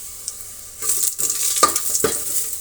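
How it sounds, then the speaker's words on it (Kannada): Onions, mustard seeds and curry leaves frying in a pan, a quiet sizzle rising into louder hissing with a couple of stirring scrapes, close and without talk. "ಇಷ್ಟನ್ನು ಫ್ರೈ ಆಗಲಿ."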